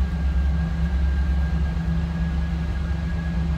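A 1988 Pontiac Firebird Trans Am V8 engine idles with a steady, low, even exhaust rumble, nearby and unbroken, with no voices.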